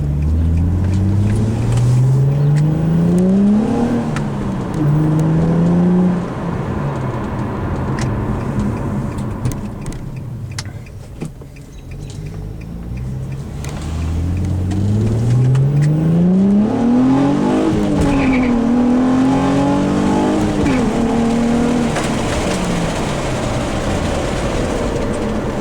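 An Infiniti G35 fitted with an engine damper pulls hard on the highway, its engine note climbing through two long rising sweeps with a shift between them, loud and close from inside the car.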